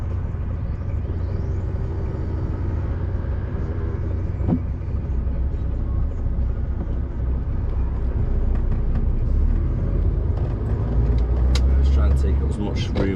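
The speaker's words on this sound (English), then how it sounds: "Just got to wait for these cars to come past on the bypass." Cars rolling past on a bypass road, a steady low traffic rumble that swells louder toward the end, heard from close by under continuous engine noise.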